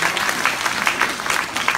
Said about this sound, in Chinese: 请大家掌声鼓励一下。